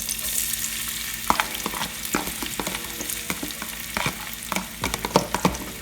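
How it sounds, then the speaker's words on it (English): Onions frying in a pan for a homemade prawn curry, a steady close sizzle with scattered crackles and pops, plus occasional sharp clicks of a utensil stirring against the pan. "So right now I'm just going to add the onions."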